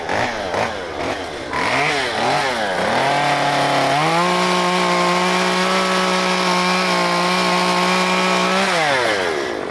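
A chainsaw revs in a few short bursts, then bites into a log with a loud, sustained buzzing whine before easing off at the end.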